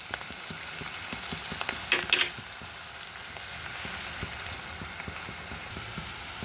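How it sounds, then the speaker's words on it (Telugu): Sliced onions fry in hot oil until brown for an Andhra-style bottle gourd dal, a steady close sizzle with light stirring taps and one brief scraping burst, no voices. "ఆనియన్స్ ఇట్లా బ్రౌన్ కలర్ రావాలండి. బాగా వేగినాయి కదండి"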